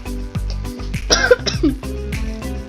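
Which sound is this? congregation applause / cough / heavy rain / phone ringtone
cough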